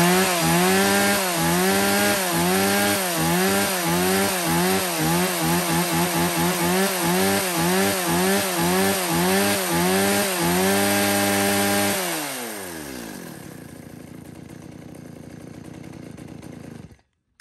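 A Stihl 170C chainsaw runs close by in rapid rhythmic revving pulses for about twelve seconds, then the throttle drops and the engine winds down to a low idle before cutting off.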